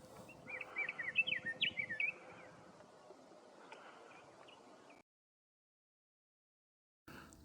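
Bright chirping phrases of a Scott's oriole ring out over a faint steady hum, then the sound cuts to silence before a brief burst of noise returns at the end.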